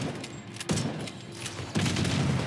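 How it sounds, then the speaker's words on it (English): Two loud booming grenade blasts about a second apart in the video game Tom Clancy's The Division 2, each a sharp burst that leaves a dense rumbling tail, with continuous game noise beneath. "Look at that explosion."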